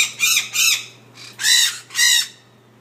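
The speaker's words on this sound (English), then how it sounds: "Bad, bad, bad little bird." A small bird squawks in four loud, close, harsh bursts, spaced in two pairs with short pauses between them.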